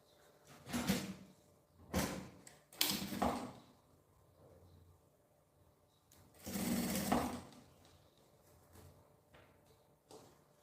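Sewing machine stitching a folded bias-binding seam on a luxury zippered pouch, running in several short bursts of a few seconds each with pauses between, near and moderately loud.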